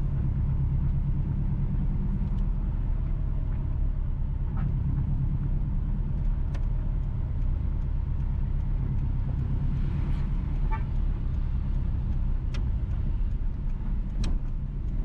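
Car driving west through rural Jamaica near Bamboo, St Ann, a constant close engine and tire rumble with road noise and occasional faint clicks, no talk.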